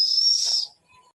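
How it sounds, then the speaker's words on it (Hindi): A pressure cooker of dal on a stove gives one shrill, steady whistle lasting under a second, then cuts off, leaving a faint tail. "बनवारी भैया एकदम लंठाया गंवा रहा का, सीटी मारे के मतलब है वो बतावा था कि दाल तोहार पक गई बा"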